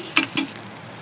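Turmeric and ginger-garlic paste fry in a pan for a banana-flower curry, giving two quick bursts of sizzling and stirring over a soft, steady hiss, with no voices.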